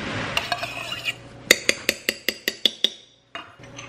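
Tomato paste being stirred into chili, a spoon scraping and clinking against the pot in a quick run of about eight evenly spaced taps, close and fairly loud, then a short pause before soft stirring resumes.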